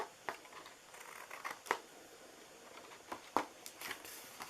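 Scissors cutting a paper treat box template, a handful of short crisp snips and rustles at irregular intervals, close and fairly quiet.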